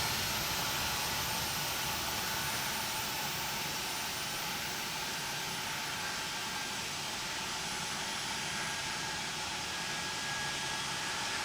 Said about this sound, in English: Lovely CFMs roaring into life.